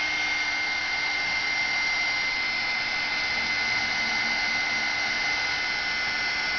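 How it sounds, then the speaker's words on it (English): A heat gun blows steadily, drying metallic glimmer mist spray, a constant loud whirring fan-and-air roar with a steady tonal whine and no change over several seconds. "and then heat it with your heat gun."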